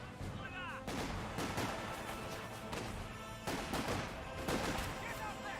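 Mortar fire and counter-mortar shelling in the strategy game Company of Heroes 2: a dense, continuous wash of booming impacts and crackling gunfire, with several louder blasts in quick succession over steady battle noise.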